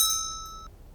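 Bright metallic bell ding used as an idea sound effect: a single clear strike with sustained ringing tones that decay and cut off after about two-thirds of a second, loud and alone.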